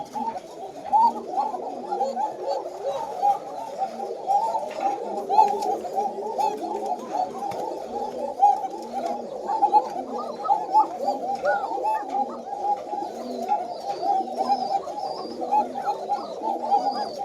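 A loft of coca pigeons at a farm cooing without pause, many birds overlapping into a steady, close murmur of throaty, rolling coos over the whole stretch, with a faint higher chirp now and then.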